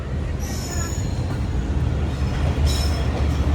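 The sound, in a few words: train approaching Landhi Junction railway station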